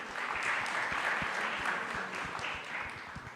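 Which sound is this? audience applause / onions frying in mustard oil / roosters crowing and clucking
audience applause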